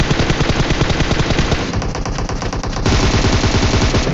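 Sustained automatic gunfire from a PUBG-style shooter video game, a dense rapid stream of shots that runs the full length, loud and continuous with no talk.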